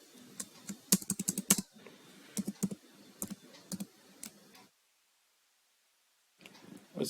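HTML code is typed on a computer keyboard in bursts of quick, close key clicks, broken by a few short pauses and one longer silence before the typing resumes near the end.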